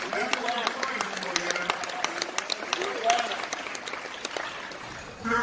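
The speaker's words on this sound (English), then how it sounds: "I want to give a round of applause to this brother for this introduction" An audience at an NAACP convention applauds a young man for his introduction, with a burst of crowd clapping under a voice that keeps talking, some claps sharp and close, tapering off near the end.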